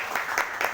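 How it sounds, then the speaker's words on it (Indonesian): Brief burst of audience applause at a coffee-dryer handover ceremony, a short steady patter of many hands lasting under a second. "Tepuk tangan untuk Mas Dila."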